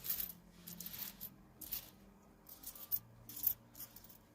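Nickels pour out and clink onto a towel in repeated bursts, a close, bright metallic jingle rising and falling in clusters with short pauses between handfuls.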